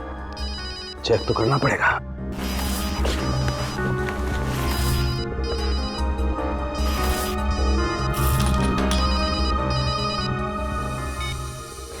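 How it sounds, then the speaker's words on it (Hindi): A mobile phone ringing from inside a bag, a steady ringtone melody running continuously under loud dramatic background music, with a brief voice speaking near the start. "फोन तो इस बैग में से बज रहा है।"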